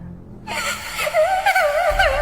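A thin, wavering crying wail with sobbing pitch swings rises after a short silence, serving as an eerie effect in a horror story.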